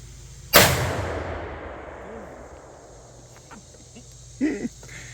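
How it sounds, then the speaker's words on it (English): A Remington 700 rifle fires a single sharp, loud shot at the range, followed by a long decaying echo and a brief faint rustle near the end, with no talking. "fire a few more rounds through it, and see how it goes"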